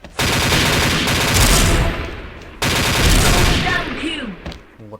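Machine gun fire in a video game crackles in two long, loud, continuous bursts with a brief gap between them, and a voice speaks over the shooting.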